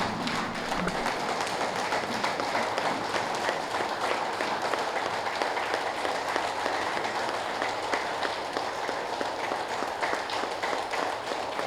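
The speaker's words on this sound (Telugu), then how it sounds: "లేచి నుంచొని గట్టిగా చప్పట్లు కొడదాం." A standing audience at a spiritual gathering claps loudly and continuously, a dense, even roar of applause that fills the room without a break from start to finish.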